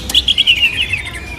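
Green leafbird (cucak hijau) at a bird market kiosk, loud close chirps in a quick run of bright whistled notes that slide gradually downward, over faint background noise.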